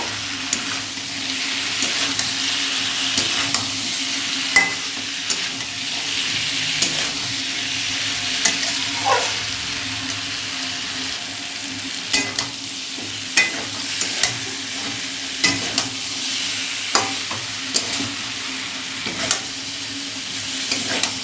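Boiled elephant foot yam being stirred into sizzling spice masala in a pan, a continuous fry hiss with repeated scraping spoon strokes and occasional clinks against the metal.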